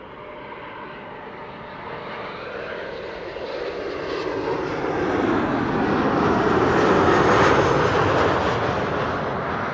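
A Transavia airliner arriving at Amsterdam Schiphol from Preveza. Steady jet engine roar that grows louder and fuller over the clip as the aircraft nears, with no talk over it.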